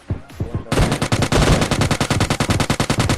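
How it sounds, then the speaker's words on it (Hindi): Gunfire rattles in PUBG Mobile Lite: a long, loud burst of rapid automatic shots fires in a steady, fast rhythm after a moment of quieter movement sounds. "लेकिन घनसण सुनने यहाँ पर ध्यान से"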